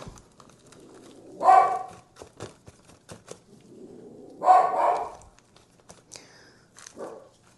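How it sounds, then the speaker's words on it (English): Two loud, drawn-out barks a few seconds apart, with some clicks and knocks between them and a fainter bark near the end. "Oh, here come the barking dogs."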